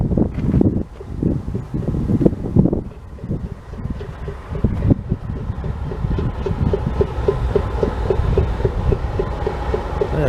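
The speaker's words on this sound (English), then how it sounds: "That's that lead locomotive." Lead locomotive of a train idling and warming up in cold, snowy weather, a steady low diesel rumble with a regular pulsing throb, heard outdoors with wind buffeting the microphone.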